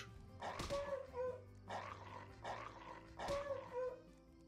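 A dog growls in The Good Life video game, three rumbling bursts spaced over a few seconds, moderately close, with game ambience underneath and no talking.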